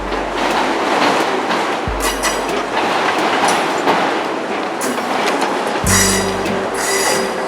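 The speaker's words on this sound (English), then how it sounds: "It would be a slow trudge for this train before its tail end finally clears" A long freight train with auto racks rolls slowly past, its railcars grinding and clattering steadily with rumbling wheels, loud and close throughout.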